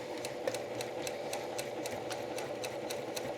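A sewing machine stitches a log cabin quilt block with a steady, close mechanical whir and regular rhythmic needle ticks throughout, no talking.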